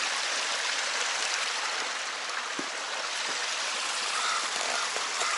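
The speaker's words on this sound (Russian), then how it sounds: "А вот здесь бежит ручей, журчит с озера чистейшего" Steady rushing and burbling of a stream flowing from a lake fills the whole stretch, close and continuous, with no voices over it.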